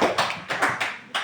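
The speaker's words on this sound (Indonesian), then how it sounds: "Tepuk tangan." Several bursts of hand claps in a classroom during a Christian religious education lesson, coming in short uneven waves close by.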